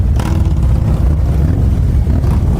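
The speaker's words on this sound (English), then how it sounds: "some of the brothers that was with us, they like to rev their engines" Several Harley motorcycles rumble and rev together nearby, a loud, continuous low engine roar with rising throttle blips and no talking.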